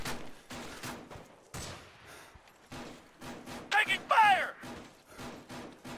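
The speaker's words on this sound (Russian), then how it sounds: "Снайпер, куда стреляешь?" Gunfire crackles in the video game Insurgency in sharp repeated bursts with thuds, fairly close, mixed with a radio-like voice and talking over the action.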